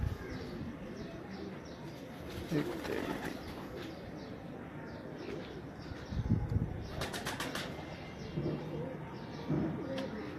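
Breeder pigeons in a loft coo low and repeatedly, with a few bursts of flapping wings breaking in, all beneath someone speaking nearby.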